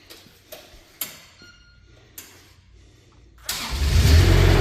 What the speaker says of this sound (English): So here's your Kubota coming to life.